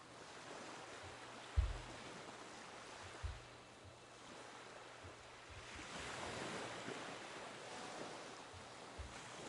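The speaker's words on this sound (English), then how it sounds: "I could hear the ocean swaying in and out gently on the sand surface." Gentle ocean waves wash in and out on a sandy shore, a soft distant surf swell rising and fading with wind noise and a few low thumps, no voices.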